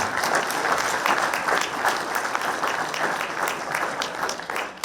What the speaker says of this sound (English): So another round of applause for Wynton Bernard.